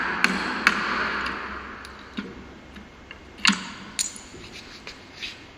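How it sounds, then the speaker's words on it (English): A chisel cuts a wooden dovetail joint in carpentry work, with sparse, sharp ticks and taps at irregular intervals over a quiet background and no speech. "he carefully is conducting the chiseling operation"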